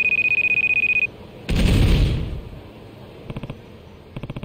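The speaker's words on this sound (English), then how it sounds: "What was that explosion?" A loud, close explosion bursts out in the action video game Judgment, cutting off a ringing alarm tone, then rumbling and fading, followed by short repeated beeping chirps.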